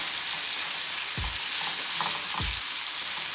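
Food sizzles in a pan over a high flame, a loud, close, unbroken hiss with two brief low thumps as the pan or food shifts, and no voices.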